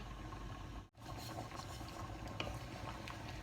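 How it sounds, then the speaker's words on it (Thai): Thai chicken and pineapple curry (kaeng khua) simmers in a pot, giving a steady, soft bubbling hiss with one brief dip near the start. "เขาเดือดสักพักแล้วนะคะ"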